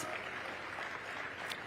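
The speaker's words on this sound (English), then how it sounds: "Give her a round of applause." An audience at an event at KICC in Nairobi applauds with a steady, diffuse, fairly faint wash of clapping that sounds as if it comes from a distance.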